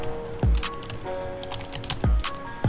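Typing on a computer keyboard: a run of quick, close key clicks with a few heavier thumps, steady and alone without speech.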